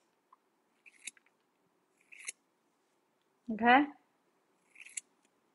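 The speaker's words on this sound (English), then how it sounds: "flip my shear over. And cut down this way." Hair shears snip through hair during a bob haircut, giving a few short, crisp, quiet cuts spaced apart, with a brief spoken word in the middle.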